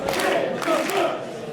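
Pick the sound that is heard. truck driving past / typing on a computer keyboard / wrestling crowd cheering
wrestling crowd cheering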